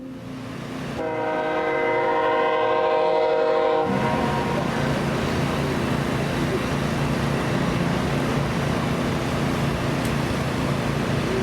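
A freight train on the Fort Scott line sounds a long steady horn blast near the start, then rolls past with a loud continuous rumble and clatter of cars.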